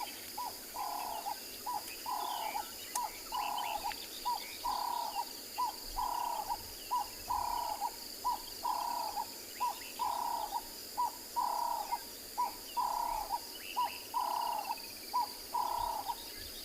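A cape turtle dove calls repeatedly on a South African morning safari, an evenly spaced run of soft cooing phrases at moderate distance over faint insect buzz and distant birdsong.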